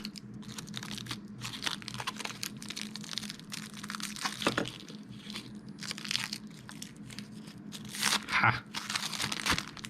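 Plastic packaging on an Insignia USB 3 memory card reader crinkles and tears in bursts of crunchy, close rustling, with brief talk and an exclamation.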